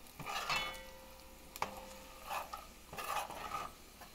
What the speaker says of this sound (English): So we're gonna give it a stir. So all the dry ingredients get a little bit fried.